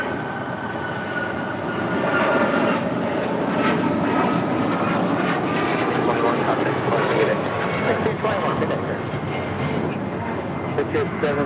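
Airliner taking off from runway 25 right at LAX, a steady broad jet roar holding strong and fairly close throughout, with people talking over it.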